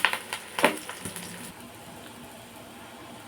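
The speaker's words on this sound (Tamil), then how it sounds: "ஒரு கை நிறைய தாராளமாக கருவேப்பிலையை போட்டு ஒரு நிமிஷம் வதக்கிட்டு" A generous handful of curry leaves sautéing in a pan for a lentil sambar, giving a soft frying crackle with a few sharp pops early on that settles into a low steady sizzle, close by and with no voices.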